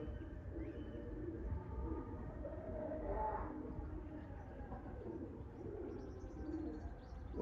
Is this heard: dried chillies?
no